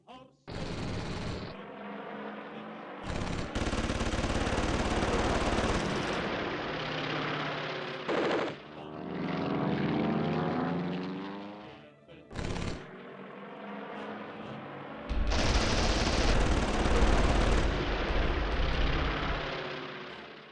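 Fighter planes strafing a field with machine guns in a Battle of Britain air-war game, bursts of rapid fire and engine roar coming in several loud waves with brief quiet gaps between them, while a voice talks over parts of it.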